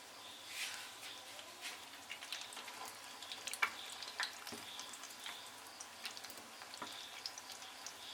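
Egg 65 pieces deep-frying in hot oil, a quiet, continuous bubbling sizzle scattered with small crackling pops and a few sharper spits, fairly distant and low in level, no talking.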